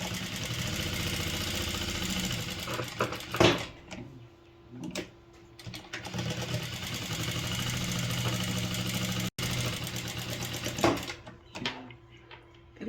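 A sewing machine stitches the edge of a lehenga or blouse tassel hanging in steady, close whirring runs, pausing briefly several times before restarting.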